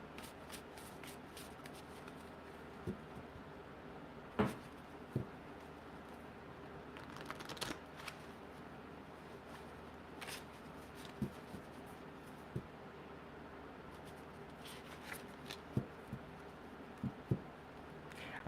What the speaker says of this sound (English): Just giving them a good shuffle.